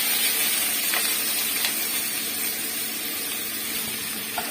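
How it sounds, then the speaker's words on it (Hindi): Onions fry in a few spoonfuls of oil in a pan for macaroni, giving off a steady, even hiss and sizzle with a couple of faint clicks and no talking. "ये देखें प्याज डालने लगी हूँ मैं।"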